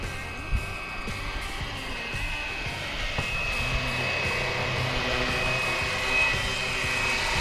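A Fly Wing BO 105 RC helicopter flies outdoors, giving a steady high whine from its rotors and motor with a constant tone that grows slightly louder as it climbs, over faint background noise.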